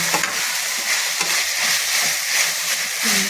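Frying food sizzling steadily in a pan while a utensil stirs and scrapes it in uneven strokes, loud and close with no voices.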